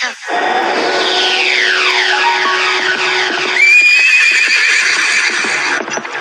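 An animated flying horse lets out a long, loud whinny with descending trills, then a second high neigh follows, close and clear, with faint hoof-like clatter underneath.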